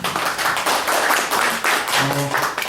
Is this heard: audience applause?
yes